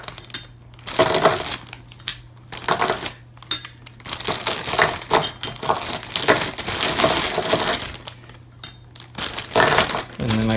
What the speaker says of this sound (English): I'm just going to put the rocker arms in